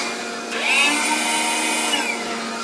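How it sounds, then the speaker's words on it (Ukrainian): A loud ventilation fan on a wood-gas generator fitted to a GAZ-51 truck whines steadily nearby, its pitch rising as it spins up and then holding a continuous whirring drone. "Вентилятор працює і електрофільтр"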